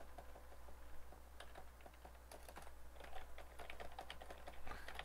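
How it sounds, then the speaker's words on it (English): Rapid, uneven clicking of keys on a computer keyboard, quiet and close, with steady bursts of typing over a low background hum. "so much typing"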